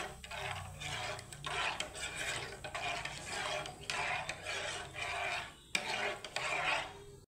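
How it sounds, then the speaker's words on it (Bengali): Half a litre of milk is stirred continuously in a pan with a utensil, producing close, repeated scraping and rubbing strokes in an uneven rhythm, with a brief pause near the end. "তো অনবরত এইভাবে আমার নাড়িয়ে চাড়িয়ে নিতে হবে দুধটাকে জাল করে"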